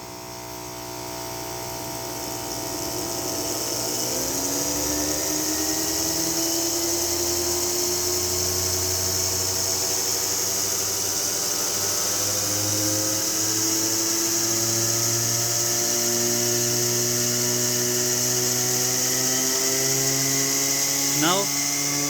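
Steam turbine in a Rankine-cycle power plant setup spinning up with no load after its valve is opened, a loud steady whine rising in pitch as it accelerates, then holding a sustained high hum.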